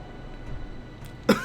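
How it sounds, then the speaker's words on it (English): A single short, sharp cough breaks out near the end after a quiet stretch of low background hum, close and fairly loud. "Still have a cough going on."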